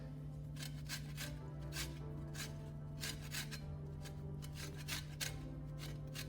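Lemon zest being grated for an herb and garlic butter: a quiet, close, rhythmic rasping of rind against a grater, about a dozen even strokes with no talking.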